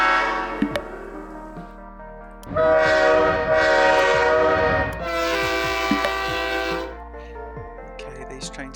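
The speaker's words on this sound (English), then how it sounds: "There's quite a few trains going here." Trains running on a rail network in the video game Voxel Tycoon: loud sustained horn blasts over rumbling wheels and clacking track joints, with a voice talking faintly underneath.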